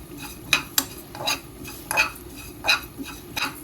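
Fennel seeds and curry leaves frying in a pan for a Jaffna-style chicken curry, with rhythmic scraping strokes of a utensil over a low, steady sizzle, close up and fairly quiet.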